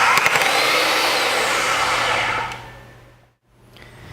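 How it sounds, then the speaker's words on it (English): An AGP DB32 digital tube bending machine motor runs in reverse, a loud steady electric whine that winds down to silence and then begins to rise again. "To remove the tube, set the direction lever to R and press the trigger switch. The machine will first back out about 15 degrees and stop."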